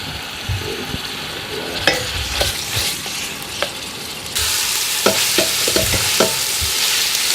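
Pork sausage and beef mince frying in a pan, a steady broadband sizzle with scattered clicks of a utensil stirring the meat, growing louder and brighter partway through.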